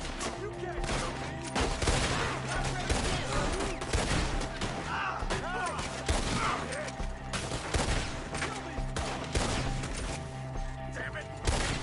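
Rapid gunfire rattles through a Red Dead Redemption 2 shootout, volleys of shots crackling almost continuously at close range with shouted voices over the battle.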